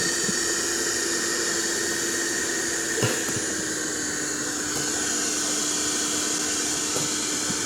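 A Black & Decker FLEX handheld vacuum sucking up hive beetles at a beehive, a steady loud motor whine with airflow roar running continuously, with faint brief clicks as debris is pulled in.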